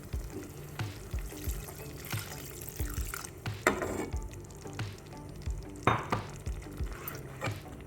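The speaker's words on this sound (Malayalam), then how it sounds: "രണ്ടാം പാൽ ഒഴിച്ചു കൊടുക്കാം" Second coconut milk poured into a pan of potato payasam, a sweet pudding, with soft liquid sizzling and bubbling under repeated scraping and stirring knocks, moderately quiet and close.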